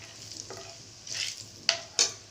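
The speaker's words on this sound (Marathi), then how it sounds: "हे मसाले आहे ना थोडे छान तेलामध्ये आपण ह्याला परतून घेऊ" Chilli powder and turmeric fry in oil in a pan: a soft, low sizzle carries a few brief scraping stirs, followed by two sharp hissing bursts near the end.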